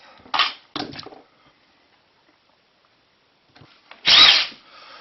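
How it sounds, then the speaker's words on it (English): A power drill whirs in two short bursts while drilling into a Xiaomi Mijia robot vacuum's LDS sensor, falls silent for a couple of seconds, then spins up again in a louder, longer burst. "So now I tried to drill out non-destructive."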